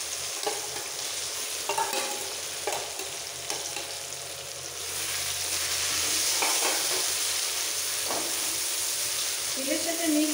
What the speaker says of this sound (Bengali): ফোড়নটা একটু ভেজে সাথে সাথে দিয়ে দেবো বেটে রাখা মটরশুঁটিটা।